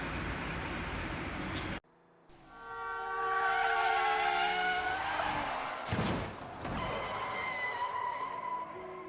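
Car tires skidding in a traffic accident, sound effect: after a brief cut, a loud, sustained squeal of rubber rises and holds, broken by a sharp noisy burst before the screech continues.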